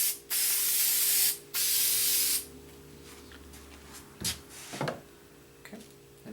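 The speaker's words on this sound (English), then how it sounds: "I use this board to use the spray glue" Aerosol spray glue hisses from a can in two long bursts of about a second each, loud and close, followed by quieter taps and rustles as scroll saw inlay patterns are handled on a work board.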